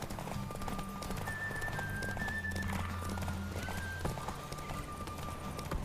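Galloping horses racing in The Witcher 3, steady clip-clop hoofbeats running throughout with an occasional whinny, set in a busy game soundscape with low musical drones.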